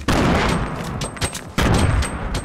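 Loud, close bursts of Fortnite gunfire crackle in two main volleys separated by a short lull, with sharp repeated shots and no clear talk over them.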